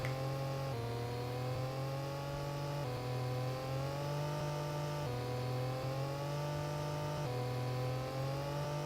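A car engine sound effect stuck revving in sixth gear, a steady synthetic drone holding high revs with harmonics that sag and climb again in repeating cycles roughly every two seconds, continuous and evenly loud with no voices.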